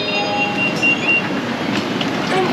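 Inside a moving metro train in China: a steady rolling rumble with thin squealing tones from the wheels, no voices.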